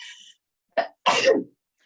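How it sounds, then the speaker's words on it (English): After a faint breathy sound, a short sharp intake leads into one explosive, close sneeze, followed by silence. "I gotta sneeze"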